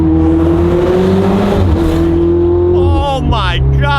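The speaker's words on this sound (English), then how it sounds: "This car does have downpipes, so you hear a lot of good turbo noises" A car fitted with downpipes revs loudly close by, the engine note holding steady and then falling away as turbo whooshes and flutter rise near the end, with a voice talking underneath.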